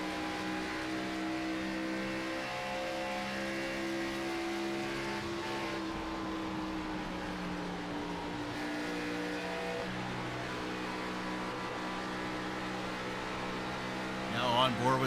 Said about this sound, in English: You can hear him throttling on that throttle, making sure he doesn't get up into that wall.